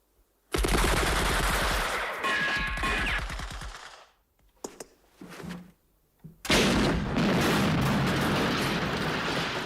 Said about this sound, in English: We're getting fired from the church belfry, the mill house, the pub.